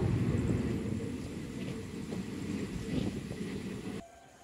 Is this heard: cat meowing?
no